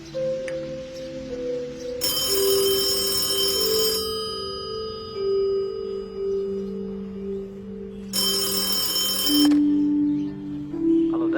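A telephone rings in two bursts of electronic ringing, each about two seconds long and fairly loud and close, over a steady tonal music bed in a home.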